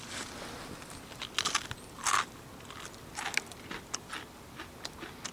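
Close, crisp crunches as someone bites and chews crunchy food, in scattered bursts separated by quiet pauses. No talking.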